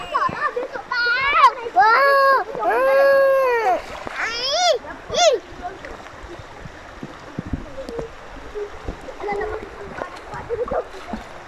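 Water splashing in a river at Janda Baik, Pahang, where people are bathing; children's voices and shouts come first, then a steady wash of splashing and flowing water fills the rest.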